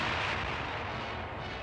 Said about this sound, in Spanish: Disparo de bazucas en una ciudad alemana.